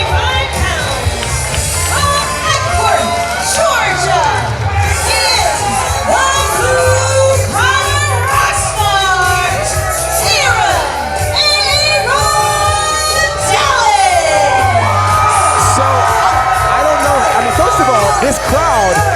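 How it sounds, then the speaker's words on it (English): A wrestling-match crowd roars throughout: dense cheering, whoops and shouted chants from many voices, loud and continuous with rising swells, and scattered individual yells standing out from the din. "This crowd is going crazy."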